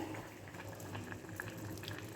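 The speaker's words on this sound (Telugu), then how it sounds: "ఇప్పుడు ఇవి ఇక్కడ బాయిల్ అయిపోతున్నాయి" Steady bubbling of broad beans boiling in a pot, close and continuous, with scattered small pops over a low hum.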